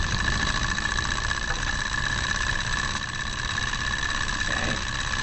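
An ethanol-fueled hot air engine runs steadily in a lab, its piston moving with a continuous mechanical hum and faint rhythmic clatter, close and even throughout, with no talk over it.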